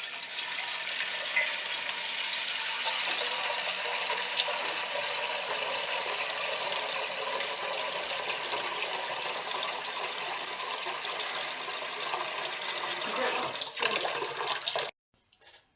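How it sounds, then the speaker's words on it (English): Tap water runs steadily into a large pan, half filling it to boil sweet corn, with a continuous broadband splashing that carries on alone for about fifteen seconds before stopping abruptly. "Half fill a pan with water."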